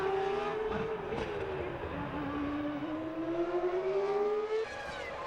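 A 1998 Formula 1 car racing at the Canadian Grand Prix in Montreal, its high-pitched engine whine holding and rising steadily down the straight, loud and continuous, with commentary talking over it.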